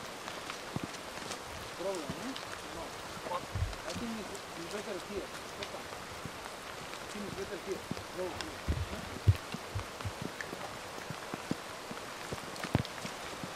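Steady rain patters on the ground of a never-hunted wild boar hunting area in Turkey on a quiet morning, with the soft squelch of footsteps through slick mud mixed in beneath it.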